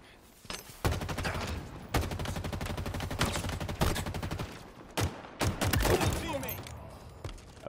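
Rapid sidearm pistol fire in Halo Infinite on the Bazaar map, loud bursts of repeated shots with short pauses, backed by game sound and occasional talking.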